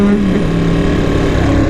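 A Ducati 959 Panigale sport motorcycle accelerates hard, a loud, dense engine roar with a rising tone, heard up close and continuous over the short stretch.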